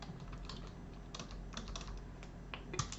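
Keystrokes on a computer keyboard as router commands are entered during a networking lesson, soft irregular clicks in small bursts with a steady low background hum.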